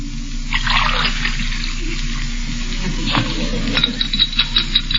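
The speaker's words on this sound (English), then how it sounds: "Peavy, could I have a glass of water?" Water pours into a glass with a soft trickling splash, followed by a few light, rhythmic clinks of a spoon stirring against the glass, fairly close and moderately quiet.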